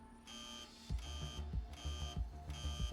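Aggressive repeating electronic alarm beeps from the video game Tin Can, pulsing in steady on-off tones over a low thumping mechanical rhythm, fairly faint and without voices.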